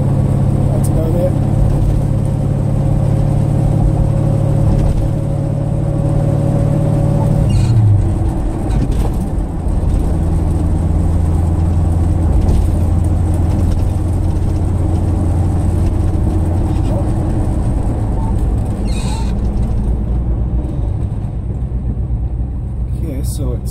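A 1978 Chevrolet K5 Blazer on a cold-start test drive, its engine giving a steady loud low rumble and drone that shifts pitch as it pulls away and cruises, with occasional speech over it.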